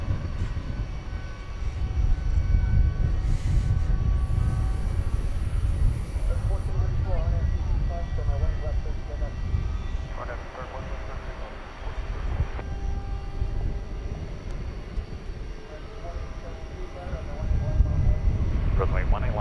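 Steady low roar of a jet airliner at night beside a runway at DFW Airport, an American Airlines Airbus A321neo, with the engine rumble filling the whole stretch while faint radio chatter and brief tones sit on top.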